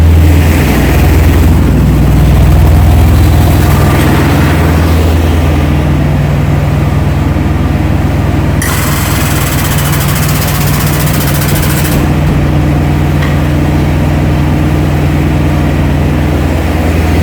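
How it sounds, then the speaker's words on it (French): A farm tractor's heavy engine runs steadily at idle throughout, a deep continuous rumble with a brief brighter, louder stretch in the middle. "On est en train de changer les roues avant du tracteur agricole"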